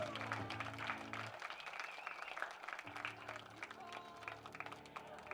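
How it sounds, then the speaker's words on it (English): Faint crowd applause at an outdoor high school football game between Abbotsford and Colby, honoring players' parents, steady clapping under a sustained tonal sound that cuts out briefly midway. "Give them a round of applause"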